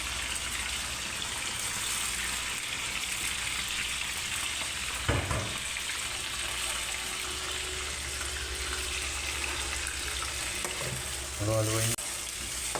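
Chicken pieces frying and sizzling in a pan for Filipino adobo, a steady dense sizzle running throughout with brief bursts of stirring and clattering near the middle and end.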